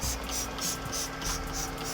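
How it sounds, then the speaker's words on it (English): A Fooco LB05 Pro cordless pressure sprayer mists Simple Green cleaner in a steady hiss lasting about two seconds, pulsing slightly as the spray continues close by. "I'm gonna spray it on there,"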